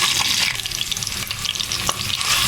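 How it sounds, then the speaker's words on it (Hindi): Two medium chopped onions fry in hot oil with a loud, dense, continuous crackle. Faint stirring clicks sit underneath, and no one talks. "मैंने ऑयल गर्म कर लिया है और 2 मीडियम साइज़ के मैंने प्याज काट कर लिए हैं। उनको अब हम ऑयल में शामिल करते हैं।"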